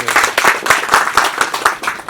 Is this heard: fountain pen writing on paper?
no